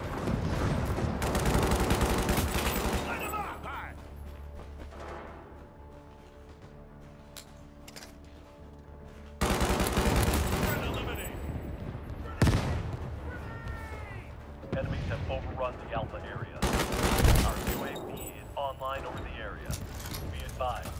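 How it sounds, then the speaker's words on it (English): Gunfire rings out in the video game World War 3 during a building-clearing fight, sharp bursts and single shots in clusters alongside loud effects, with a player talking over much of it. "where am I getting shot from?"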